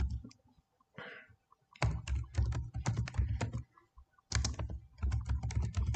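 Rapid typing on a computer keyboard while entering data in an Excel spreadsheet, with dense bursts of clicking keys separated by short pauses, close and fairly loud, with no voices.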